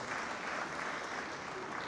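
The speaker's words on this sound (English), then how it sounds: "Can I have a round of applause for her, please?" Audience applause fills a hall at an awards and business summit, a steady dense clapping that runs unbroken and fairly loud from start to finish.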